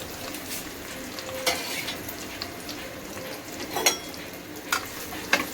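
Potatoes and onions frying in a pan for aloo pyaaz kadhi, a steady close sizzle with intermittent scrapes and clinks as a spoon stirs them, no talking.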